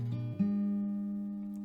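Single fingerpicked acoustic guitar notes from a song, a low note followed by a hammered-on higher note that rings out and slowly decays, close and alone.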